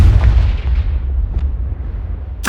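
Deep, rumbling blast from the Confringo fire spell in Hogwarts Legacy, one loud, booming explosion with a low rolling tail and a sharp crack right at the end.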